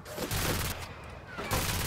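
Gunfire in the shooter F.E.A.R. Extraction Point comes in two dense, loud automatic bursts separated by a short lull, harsh and close.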